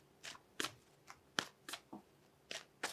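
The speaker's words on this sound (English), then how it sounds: "I'm going to pull one more card here" Tarot cards being handled and pulled from a deck: close, crisp card flicks and slaps, about eight quick separate snaps at an uneven rhythm, quiet and with no talk.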